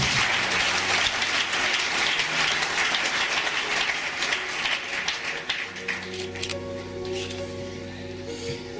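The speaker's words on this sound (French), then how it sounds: "Acclamons très fort pour le Seigneur." Church congregation applauding and cheering loudly for the Lord, a dense wash of clapping and voices that thins out after several seconds into quieter sustained tones.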